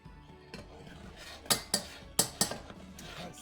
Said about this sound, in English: Stir when I put it in.